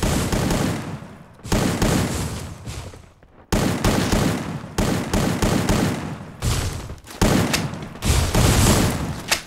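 Sustained bursts of heavy video game gunfire rattle almost continuously, broken by a few short pauses, loud and close.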